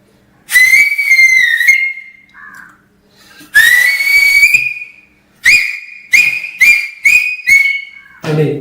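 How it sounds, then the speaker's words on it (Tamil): A person whistles a bright, clear tune, two long sliding phrases followed by a run of short, evenly spaced notes, loud and close with no talking. "எனக்கு விசில் நல்லா அடிக்க தெரியும்"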